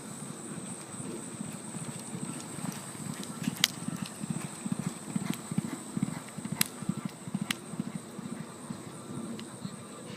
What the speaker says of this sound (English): I was having to film every horse that went by